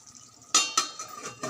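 A metal lid set back onto a cooking pot of curry, giving two quick close clinks followed by lighter rattles and scrapes, short and fairly quiet.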